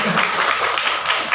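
Audience applause at a seminar, a steady burst of many hands clapping filling the room for a moment, dense and fairly loud throughout.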